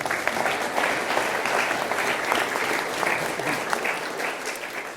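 A crowd at a Remembrance Day observance applauds steadily, dense clapping filling the whole stretch at a constant, fairly loud level.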